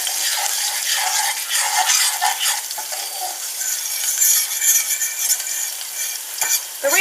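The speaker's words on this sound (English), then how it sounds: "So just going to stir that until you get a vibrant smell of flavours of garlic and stuff like that" Garlic frying in a pan with constant stirring, a loud bright sizzle punctuated by scraping and clinking of a utensil against the pan, close up and uninterrupted, no one talking.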